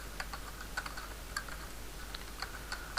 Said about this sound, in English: Now I'll type here